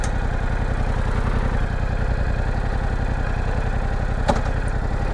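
A Yamaha R7 Anniversary Edition sport bike idles steadily after starting, its engine a close, even low rumble with a mechanical clatter and a brief sharp click near the end.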